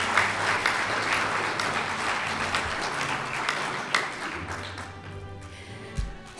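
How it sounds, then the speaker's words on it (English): Graduates at a GED and HiSET high school equivalency graduation ceremony applaud their family members. The clapping is broad and sustained, then thins out and fades toward the end, with a few scattered taps. "So graduates, let's applaud your family members."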